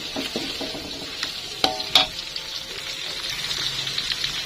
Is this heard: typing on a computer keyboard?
no